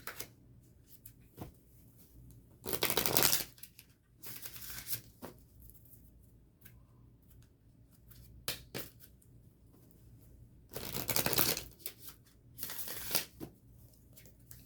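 Oracle cards being shuffled for a Goddess card draw: soft, intermittent riffling bursts of card stock, a few short clusters separated by quiet pauses, faint and close.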